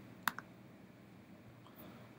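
Two sharp, quick computer mouse clicks sound close together near the start, followed by quiet room tone with a faint later tick.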